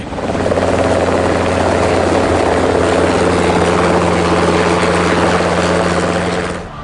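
Fighter helicopters flying over India: a loud, continuous rotor and engine roar with steady low drone tones, sustained throughout and fading at the very end.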